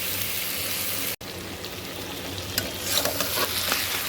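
Close, continuous sizzling of spices frying in a pan for mutton curry, crackling and spattering steadily with a brief break near the start.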